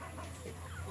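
Free-range chicken clucking on a rural hillside farm, a brief close cluck over steady background noise.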